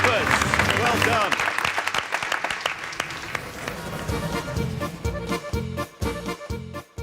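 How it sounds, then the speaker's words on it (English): Applause from a studio audience at a model railway building competition fills the opening seconds, then thins into scattered claps and background noise, with voices mixed in. "Give them a round of applause, guys."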